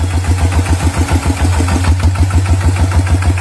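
A tractor engine catches and settles into a loud, close, rhythmic idle, its steady low chugging thump running throughout with no voices.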